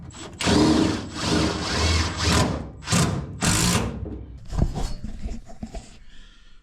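A power drill drives self-tapping screws into a new floor pan on a Datsun 280Z, in several whirring bursts of a second or so each, loud and close, ending with quieter clatter.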